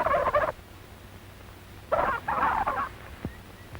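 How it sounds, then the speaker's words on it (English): A turkey gobbler gobbles on a 1930s poultry farm in two rapid, warbling bursts separated by a pause, fairly close and alone, with a faint short call after the second burst. "He hears a turkey gobbler who flew over the fence of the turkey yard."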